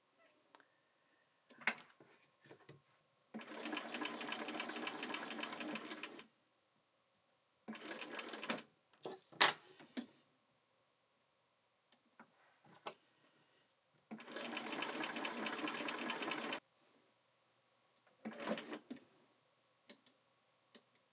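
A sewing machine stitches appliqué on fabric with a very small stitch length of about 1.8, giving two sustained bursts of rapid, even whirring separated by quiet pauses and soft clicks.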